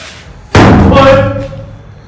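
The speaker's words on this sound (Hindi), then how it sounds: "ये दरवाजा भी बंद हो रहा है, वो दरवाजा भी बंद हो रहा है।" A door in a farmhouse slams shut with a single loud, close bang followed by a short ringing decay.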